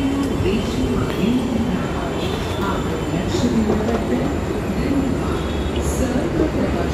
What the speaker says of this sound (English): This is the metro.